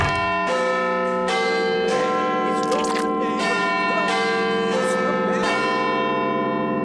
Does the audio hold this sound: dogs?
no